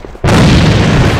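A loud, sudden blast from a thrown charge detonating in a video game, one sharp boom followed by a sustained roaring rumble.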